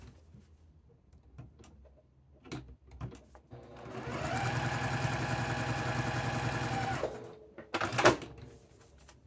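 A sewing machine stitches a seam in one steady, close run of rapid mechanical whirring lasting a few seconds, framed by quiet handling and fabric rustles before and a brief sharp clatter after.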